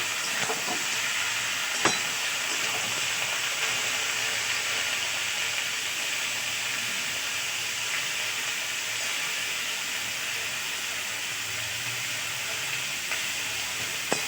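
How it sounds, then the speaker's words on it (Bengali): Potato and ridge gourd fry in oil in a steady, even sizzle, with a couple of faint clicks from stirring. "আলুটা দিয়ে দিলাম। নাড়বো তেলে।"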